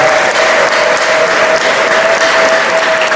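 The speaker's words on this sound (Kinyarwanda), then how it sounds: "Mumukomere amashyi y'umwami." A church congregation applauds at a morning service with loud, dense, continuous clapping that fills the room and stays steady from start to finish, with a faint sustained tone running underneath.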